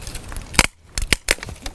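Sharp crunching snaps from a bypass lopper biting through dead wood, a few loud cracks in quick succession with rustling between.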